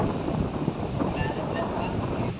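Steady wind gusting against the microphone outdoors, a dense continuous roar with no clear breaks, fairly loud and close.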